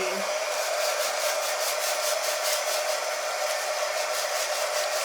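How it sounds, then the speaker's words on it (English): A hair dryer runs continuously over a batch of craft beads, a loud, steady, close rushing hum with a faint rhythmic flutter and no voices. "So there I've got my beads, kind of give them a shake, and I'm going to give them a dry."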